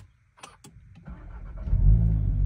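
A few clicks and a starter crank, then a Volkswagen Golf VII GTI engine catches and settles into a steady, close idle.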